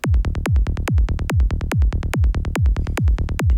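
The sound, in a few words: dark kick drum and bass line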